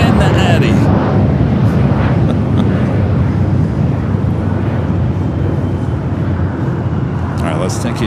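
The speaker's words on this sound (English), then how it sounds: "The Dreamliner coming in from Tokyo." A Boeing 787 Dreamliner from Tokyo Haneda arriving at LAX, heard as a loud, steady, broadband jet roar that holds throughout, with wind buffeting and voices talking over it.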